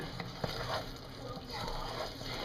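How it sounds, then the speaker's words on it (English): Hot fudge being stirred in a non-stick pan, a steady bubbling sizzle with soft scraping strokes, fairly quiet and continuous. "Keep stirring."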